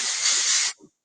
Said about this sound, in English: We're going to grab my dry oil spray here,